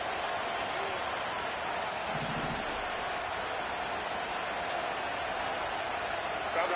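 A stadium crowd in an American football video game makes a steady, unbroken roar that holds at an even level throughout, like a wash of distant cheering.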